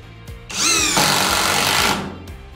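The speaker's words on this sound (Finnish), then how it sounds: "Sitten tämä uusi ruuvivääni samoilla 5x70 yleisruuveilla" A new cordless screwdriver drives a 5x70 general-purpose screw, its motor whirring up loud and steady for over a second before stopping, with a faint click or two around it.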